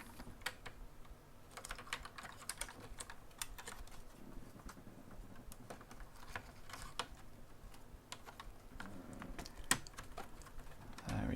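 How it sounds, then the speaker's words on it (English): Rapid, uneven clicking of keys on a homemade mechanical keyboard as someone types and deletes, a steady close patter of individual keystrokes with a few louder taps, without talk. "Let's build it properly and try typing and deleting."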